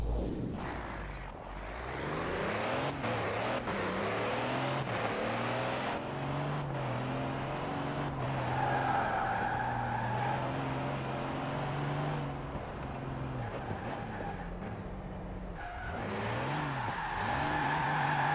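A car in Forza Horizon 4 drifts sideways under the handbrake: a steady, loud engine drone with harmonic revving, shifting pitch through the slide, and tire squeal rising in the later part.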